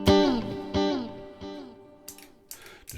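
PRS Silver Sky SE electric guitar notes ring out through a stereo delay and repeat in fading echoes, each phrase trailing off in a spacious delay, followed by a few quieter picked notes.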